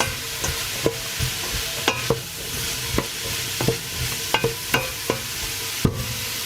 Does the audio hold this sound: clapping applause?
no